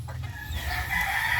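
A rooster crows once, close and fairly loud, among a flock of gamecock roosters, with no talking over it.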